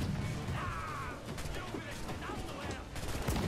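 Gunfire in Assassin's Creed 4 Black Flag, a dense crackle of shots and mechanical clatter running throughout, moderately loud under game noise.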